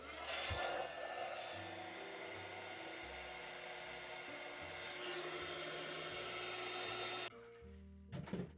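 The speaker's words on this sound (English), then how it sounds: "I'm going to bring in my heat tool and I'm just going to warm it up" A handheld heat tool blows a steady, whirring hot-air drone while drying watercolor paint on a cardmaking flower sketch. It runs continuously and fairly quietly for several seconds, then cuts off, leaving a few soft handling knocks.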